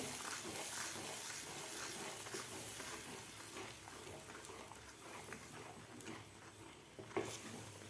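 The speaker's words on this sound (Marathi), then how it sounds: "आता लगेच आपल्याला याला पटपट हलवून घ्यायचं आहे" Gram flour batter for patvadi being stirred quickly in a hot pan, a steady hissing sizzle with faint scraping strokes throughout, fairly quiet and continuous, no voices.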